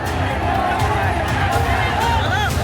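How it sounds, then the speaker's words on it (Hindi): A street crowd in Bareilly pours out after Friday prayers to protest, making a loud, unbroken hubbub of many overlapping voices that stays steady throughout. "नमाज के बाद भीड़ कुछ इस तरह सड़कों पर उतरी।"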